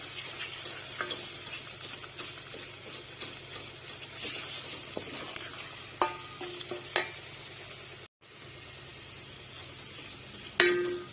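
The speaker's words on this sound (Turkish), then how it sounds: "Onların kokusu çıkıncaya kadar kavuruyorum." Tomato paste and flour are sautéed in a pot for a lentil soup, a soft steady sizzle with occasional scrapes and taps of a spoon stirring against the pot, faint and continuous.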